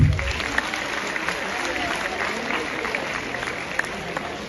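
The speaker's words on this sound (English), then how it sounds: "Round of applause." Audience at a school alumni event giving a round of applause for a second-runner-up finish in a national entrepreneurship competition, a dense, steady patter of clapping that persists evenly throughout.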